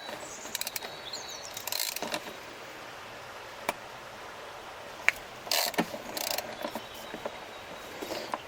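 Ratchet wrench working bolts loose on an Iveco Daily 35-8 SOFIM 8140 water pump job, short ratcheting clicks and metallic clunks in scattered bursts over a quiet workshop background, no talk.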